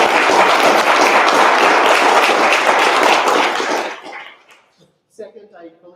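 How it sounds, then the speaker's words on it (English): A crowd claps loudly and steadily for several seconds, then the applause trails off quickly into near silence before a voice starts speaking. "give all of our candidates a round of applause"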